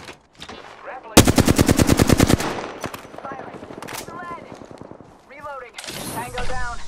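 Rapid automatic weapon fire in the shooter game Apex Legends, a loud close burst of evenly spaced shots lasting about a second, surrounded by in-game voice callouts and scattered effects.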